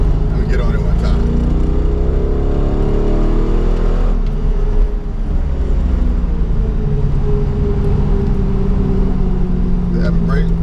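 A Chevrolet C5 Corvette Z06 accelerating hard, its engine roaring loudly from inside the car with rising revs and a shift, while someone talks briefly over it.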